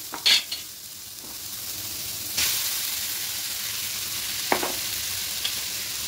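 Broken wheat (dalia) fries in a pan for a vegetable pulao, giving a steady hiss of sizzling broken by a few sharp scrapes and clinks of stirring, close and fairly quiet with no talk.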